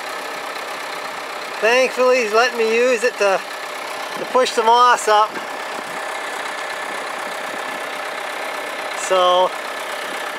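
A Versatile farm tractor engine idles with a steady low hum, heard from the cab near sphagnum moss beds while someone talks over it.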